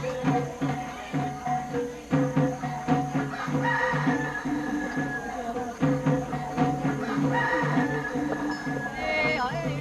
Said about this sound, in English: It's now time to sacrifice the pigs and the chickens.